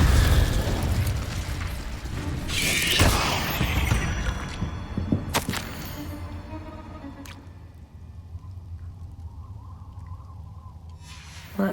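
Incendio fire spells in Hogwarts Legacy burst in loud whooshing blasts, several in quick succession early on, then smaller pops and crackles fading into a quieter hiss.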